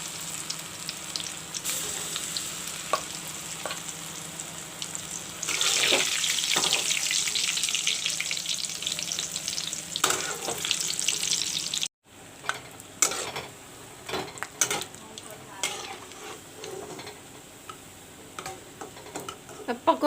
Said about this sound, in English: The oil is turned hot. Now I will leave the pakoris. This way I will fry all the pakoris.